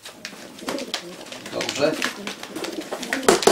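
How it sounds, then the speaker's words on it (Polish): A spotted male racing pigeon from 2008, held in a breeder's hand, coos softly amid close conversation in Polish. "to jest właśnie ten gołąb, co masz teraz w ręku?"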